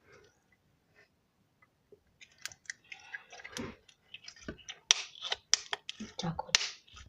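Chewing gum clicks and crackles in a rapid, irregular series of close, crisp snaps. Talk runs under and between the sounds.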